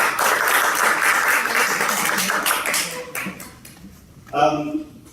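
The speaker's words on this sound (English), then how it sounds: "Let's please give them all a round of applause." Audience applause for event sponsor Intel at a future computing introduction, a dense wash of clapping that fades out, followed by a brief spoken voice.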